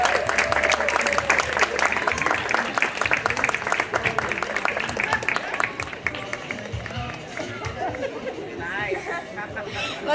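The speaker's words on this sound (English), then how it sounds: "Let's give her another round of applause." A school word parade audience gives a round of clapping that fades after several seconds, with lively chatter and voices throughout.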